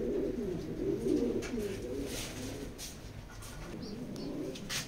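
A pigeon in a Lalbagh loft coos in low, repeated, rolling calls close by, with faint chirps and soft background noise and no one talking.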